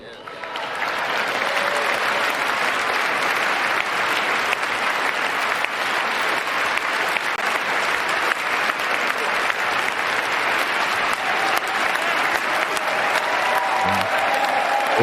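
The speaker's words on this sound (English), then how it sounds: "This is an applause line." A large audience applauds steadily throughout a political inauguration speech, dense, sustained clapping that holds at an even level from start to finish.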